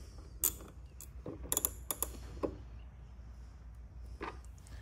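Screws are tightened on a Victron Lynx Power In bus bar with a plastic housing, giving faint, close clicks and scraping ticks in a few scattered bursts over a quiet background.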